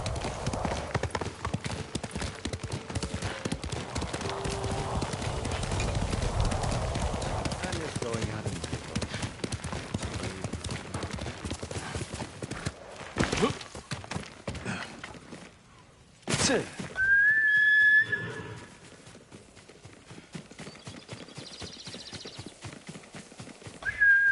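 Rapid hoofbeats of a galloping horse in the video game Ghost of Tsushima, with a neigh and occasional impacts, voices talking over it.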